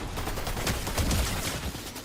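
SMG gunfire during a battle royale video game match, a rapid, dense spray of shots that runs continuously for about two seconds at moderate loudness, with no voices over it.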